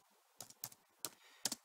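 Four quick keystrokes on a computer keyboard, entering a command for a 500A motor controller's firmware settings, sound close and crisp with short gaps between them and no talking.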